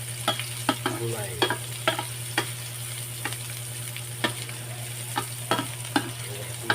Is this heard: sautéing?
yes